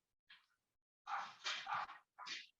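Dogs bark indoors in short separate bursts: one quick yap, then a run of three or four quieter, somewhat muffled barks and a final yelp, heard from a little distance with no talking.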